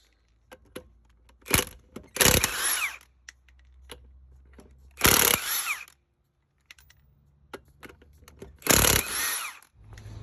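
Power tool spinning off 19mm bolts and lug nuts on a 2008 Honda Accord, heard as three loud close bursts of whirring and rattling separated by quiet gaps and small clicks.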